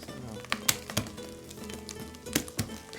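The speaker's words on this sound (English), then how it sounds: "the chorizo is starting to brown now, I'm going to add a couple of cloves of garlic" Chorizo and garlic fry in a pan with a soft steady sizzle, punctuated by sharp clacks and scrapes of stirring against the pan, close and without talk.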